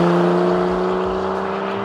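A Porsche 911 GTS of the 991.1 generation with its non-turbo engine, a loud, close, steady drone with strong harmonic tones holding at constant pitch for under two seconds, with no voices.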